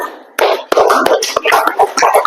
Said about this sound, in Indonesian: Tepuk tangan untuk kelompok satunya.